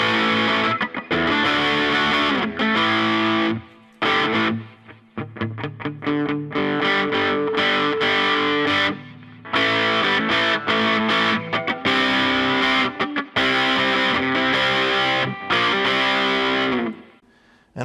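Distorted PRS electric guitar with humbucker pickups through an amp, playing chords and riffs with frequent stops, thick and somewhat dark in tone.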